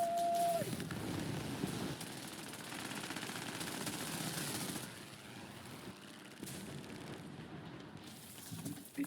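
Automatic machine-gun fire during a biplane air battle in the War Thunder video game: a dense, continuous rattling roar with engine drone underneath, steady for several seconds before easing slightly.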